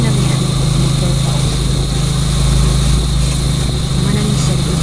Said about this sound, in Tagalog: sakay na mi ani og motor pa